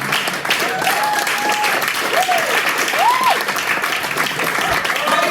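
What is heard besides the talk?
audience applauding and clapping at comedy show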